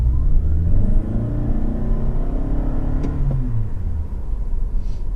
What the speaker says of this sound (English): Let's put it in sport and accelerate to 50.